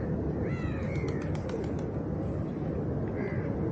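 Pigeons calling by a rocky shore, a few soft bird calls rising above a constant heavy rush of wind or surf.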